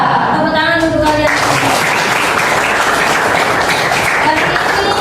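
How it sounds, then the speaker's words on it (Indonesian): A classroom of students applauds together, a dense, steady burst of clapping that fills the whole stretch at close range, with some voices mixed in near the start. "Tepuk tangan untuk kalian."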